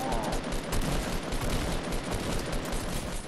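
Rapid, dense gunfire from the video game Fortnite, a continuous loud burst of shots filling the whole stretch without pause.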